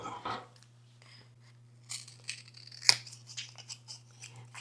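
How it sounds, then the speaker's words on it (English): Scissors cut through a plastic dollar-store container, leaving a few sparse, crisp snips and crinkles with a sharp crack near the middle. The sounds are close up and fairly quiet over a low steady hum. "And then we want to cut out the strike pad."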